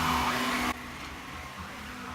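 A Bosch Athlet cordless vacuum cleaner runs on its second setting, a close, steady motor whir and airflow hiss that drops to a quieter, even drone after the first moment.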